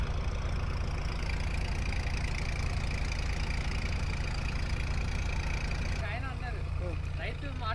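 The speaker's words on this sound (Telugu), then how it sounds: "ఈ ఒక్క డీవాటరింగ్ ట్రాక్టర్ మటుకు ఒకటే పని చేస్తుంది." A tractor-driven dewatering pump engine runs steadily at a raft foundation construction site, a loud continuous low drone throughout with a few faint chirps near the end.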